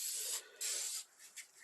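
Rust treatment sprays from an aerosol can onto the heater tubes of a Chevrolet C4 Corvette, two sharp hissing bursts followed by a shorter puff, close and alone.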